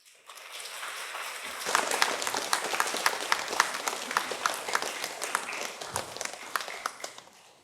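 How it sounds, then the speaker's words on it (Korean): A church congregation gives welcoming applause as a visiting pastor comes forward. The clapping starts softly, swells into sustained, fairly loud applause with distinct individual claps, and then fades away. "우리 목사님 나오실 때 힘차게 박수로 환영해 주시기 바랍니다."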